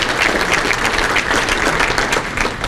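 Audience applause at a county State of the Economy address, a dense steady wash of many hands clapping, fairly loud and close, continuing evenly with no voices.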